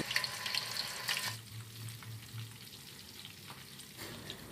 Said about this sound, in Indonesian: Jadi aku goreng tahu duluan.